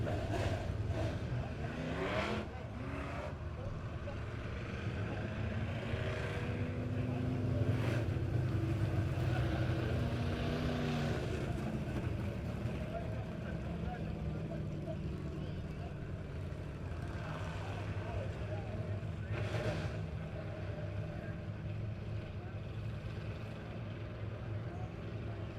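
USRA stock cars line up for a heat race at Lebanon Midway Speedway, their engines rumbling and revving unevenly, some near and some farther off, under steady crowd and track ambience.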